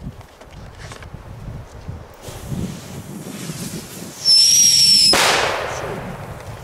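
Fireworks and firecrackers set off outdoors in Belgium, with wind rumbling on the microphone, a sharp whistling rocket shriek and a loud burst, then a fading rushing hiss.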